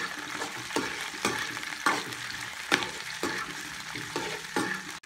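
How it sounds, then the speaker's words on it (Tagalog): Onion, garlic, tomato and bird's-eye chili sauté together in hot oil, with a constant close sizzle and rhythmic scraping strokes of a spoon stirring the pan, no talk. "pagsabay-sabay na natin igisa ang sibuyas, bawang, kamatis, at siling labuyo"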